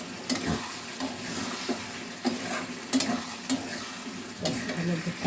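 Mushroom curry sizzles in a pan as it is stirred, with a steady frying hiss and intermittent scraping knocks of the spoon, close and continuous.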